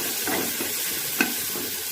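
Ground spices, cumin and coriander powder with a pinch of sugar, sauté in oil for an egg masala curry, giving a soft continuous sizzle and a single sharp stir or clink near the middle.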